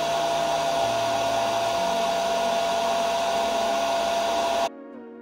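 A CPAP machine runs at 100% with a muffler fitted, a loud, steady rushing blow of air with a constant tone and a slight shift in hum partway through, then cutting off abruptly near the end.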